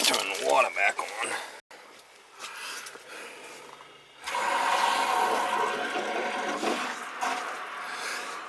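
Water rushes and gurgles through household plumbing near a gas water heater after the supply is turned back on, hissing and surging loudly in the second half, with a person talking over it early on.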